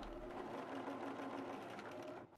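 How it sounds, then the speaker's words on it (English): A sewing machine runs steadily as it stitches pleats into a fabric piece for a bowl cozy, a continuous close mechanical whir that stops just at the end. "fold the fabric in the other direction and sew the two remaining pleats"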